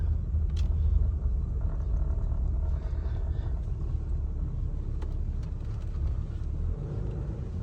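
A Ram 3500 pickup truck fitted with a Carli Pathfinder suspension kit drives along, heard from inside the cab as a steady, low engine and road rumble with faint rattles, no talking.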